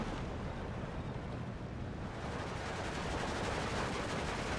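Incoming rocket fire in Steel Division 2 makes a dense, continuous roaring rumble that stays loud and unbroken throughout, with a rough, crackling texture like a sustained barrage.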